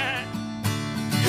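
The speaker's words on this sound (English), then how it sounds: "I have a goat." Goat bleating in a farm-themed children's song, a couple of wavering, nasal calls close up and fairly loud, the second longer and rising, with no talking over them.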